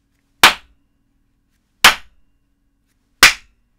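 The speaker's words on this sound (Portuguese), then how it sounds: "Vocês ouviram a seguir ao meu aplauso foi o som a reverberar dentro do espaço" Three single hand claps in a roughly 7 by 4 metre room, each a sharp loud crack with a short reverberant tail, spaced about a second and a half apart with silence between.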